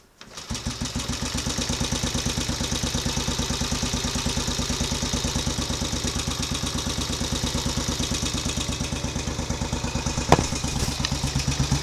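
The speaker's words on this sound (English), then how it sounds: "So it's going straight into that tick over with one kick" A Royal Enfield Bullet 350 single-cylinder motorcycle engine settles into a steady, even thumping idle right after one kick start. The beat is loud and regular throughout, with a brief metallic knock near the end.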